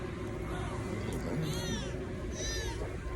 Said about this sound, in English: He got a little cat